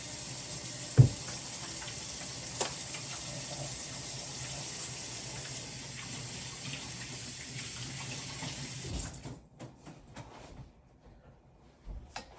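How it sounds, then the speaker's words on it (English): Tap water runs steadily into a kitchen sink while hands are washed beneath it, a continuous close splash that stops near the end, leaving a few faint handling sounds. "I'll wash my hands again"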